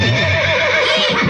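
A horse neighs in a 1995 Philippine television commercial: one loud, close, shrill whinny with a quavering, wavering pitch, heard on its own with no talk.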